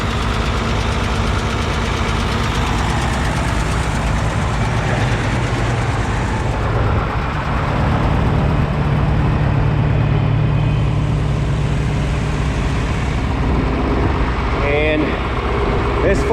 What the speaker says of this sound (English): This was his big tractor.